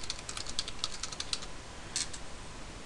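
Computer keyboard keys tapped while entering an email address and password to log in to Dropbox, a quick close run of clicks, then a pause and a final short burst.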